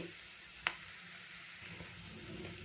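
A restaurant-style gravy base fries in a pan, giving a soft continuous sizzle with a single sharp clink of a utensil early on.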